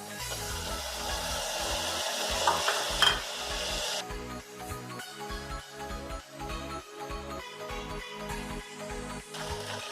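Tomatoes hit a hot pan for a millet vegetable pulav, crackling in a loud steady sizzle while a spoon scrapes and stirs in repeated rhythmic strokes; the hiss drops sharply partway through as the moisture cools the pan, and stirring continues.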